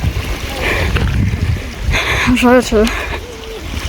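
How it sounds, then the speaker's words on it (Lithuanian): A mountain stream in Tatra National Park near Zakopane, Poland, gives a steady rushing, burbling wash beneath a hiker's voice, which talks over it throughout. "O, čia vandenėlis kažkoksai. Girdžiu."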